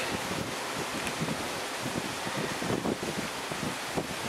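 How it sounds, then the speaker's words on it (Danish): Wind blowing strongly outdoors in a Danish forest near Hulsø in Frederiksdal, a steady broadband rush with gusty buffeting against the microphone throughout, loud and close, with no talking. "og det blæser, og der er uro i luften"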